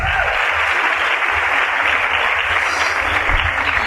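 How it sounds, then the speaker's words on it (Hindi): Audience at an Amway motivational seminar bursts into loud, sustained applause in a large hall, dense clapping continuing evenly for the whole stretch. "इसलिए खुद के लिए जोरदार तालियां"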